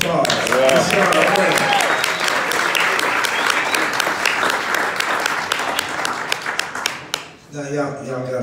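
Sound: audience applause for a performer at a live big band show

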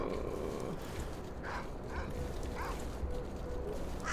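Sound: dogs barking in the video game S.T.A.L.K.E.R. Call of Pripyat

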